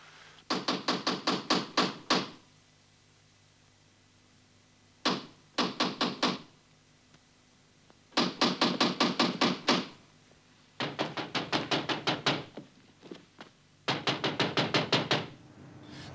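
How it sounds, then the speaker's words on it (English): Knuckles rap on a door in repeated bursts of rapid, sharp knocks, five separate volleys with silent pauses between them, clear and fairly close with no talking. "Somebody at the door."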